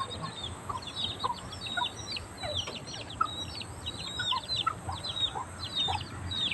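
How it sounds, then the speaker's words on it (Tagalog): Several chickens cluck on and off over a steady background hum, with scattered high chirps from smaller birds throughout. "mga alaga ko na manok"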